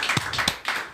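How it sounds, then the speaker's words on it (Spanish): An audience in a live talk-show setting claps for Eduardo Costantini, founder of Consultatio and Malba, with a few distinct close hand claps over about a second. "Un aplauso de vuelta para Eduardo."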